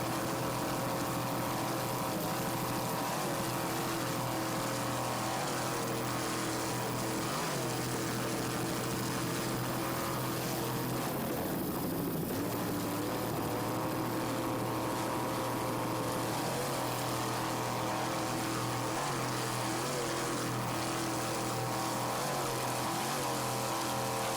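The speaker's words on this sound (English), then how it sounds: "they're handling these boats very well, maneuvering in these bumpy waters" Racing powerboats, one with a 390-horsepower Mercury inboard, run over bumpy water at an offshore race, their engines droning loud and continuous, rising and falling with throttle as hulls slap the chop.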